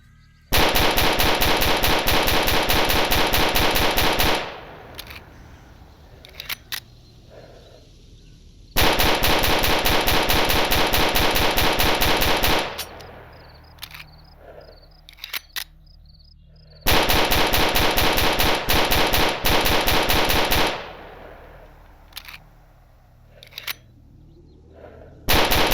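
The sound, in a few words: MP443 Grach 9mm pistol gunfire in video game STALKER Anomaly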